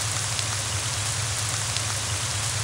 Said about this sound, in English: And it's freaking raining.